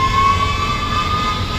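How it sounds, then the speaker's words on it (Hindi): Ambulance siren on a Delhi road in traffic, a sustained steady wail that holds loud and close over low traffic rumble for a short moment. "एम्बुलेंस आ रही है।"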